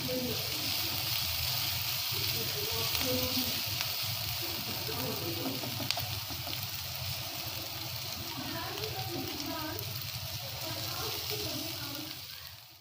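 Food is sautéed in a pan over a medium flame just until soft, giving a constant low sizzle and frying crackle. A voice talks over it.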